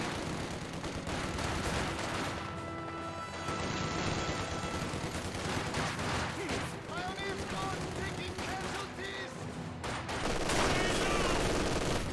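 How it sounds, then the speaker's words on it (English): MG42 machine gun fire in the Company of Heroes 2 battle game, sustained bursts mixed with other gunfire and explosions in a dense, loud battlefield din, with a commentator talking over it. "MG42 firing away, suppressing down the conscript squad."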